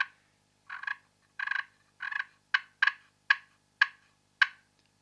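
Wild turkeys gobble during a Texas hunt: a run of about nine clear, rattling calls rises from several rolling bursts into sharper, shorter calls against a silent background.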